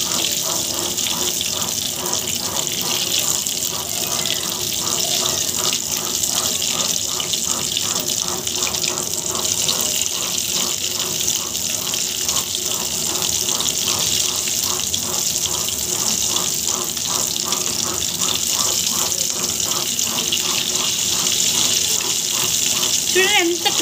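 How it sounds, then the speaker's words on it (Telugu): Bread potato rolls fry in hot oil after being turned to the other side, giving a dense, steady sizzle that fills the whole stretch at close range. "సో ఇంకో వైపు కూడా ఫ్రై చేద్దాం"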